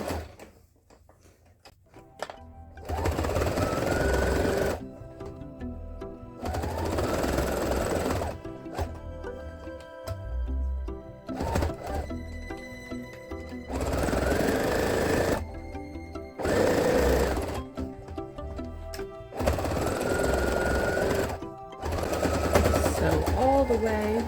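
Sewing machine stitching a baby snuggle blanket with an 1/8 inch seam allowance, running in repeated bursts of steady rapid needle chatter separated by short pauses, with a person talking in between.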